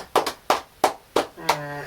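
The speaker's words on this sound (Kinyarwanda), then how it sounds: "Kadukomere ijambo ry'Imana amashyi." A handful of sharp hand claps ring out in an uneven rhythm from a church congregation, each one crisp and close. A sustained tone rises at the end.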